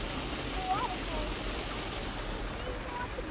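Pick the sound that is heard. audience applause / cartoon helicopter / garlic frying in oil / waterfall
waterfall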